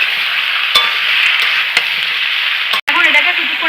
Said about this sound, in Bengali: দিয়ে নুনটাকে ভালো করে মিশিয়ে দেবো।